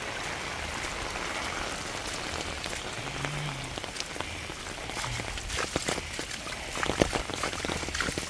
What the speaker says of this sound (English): Got us a little waterfall there.